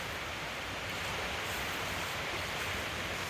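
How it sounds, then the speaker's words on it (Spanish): A river running in its natural channel beside a trout farm's water intake, heard as a loud, steady, broadband rush of flowing water with no pauses and no voices. "Aquí vemos el cauce normal del río."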